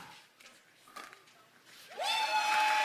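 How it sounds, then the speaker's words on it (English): Spectators at a professional pickleball match in Atlanta, New Jersey 5s against New York Hustlers, let out a loud, sustained collective woo near the end, rising suddenly out of quieter, sparse background sounds. "you can hear the crowd wooing"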